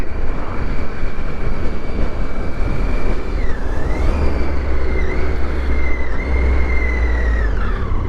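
A Triumph Tiger 800 motorcycle on the move gives a steady, loud roar of wind and road noise, with an engine whine that shifts slightly in pitch as the rider changes speed.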